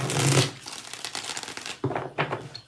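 Tarot cards are shuffled close up in quick papery riffles and rustles, with a louder burst at the start and two shorter bursts near the end.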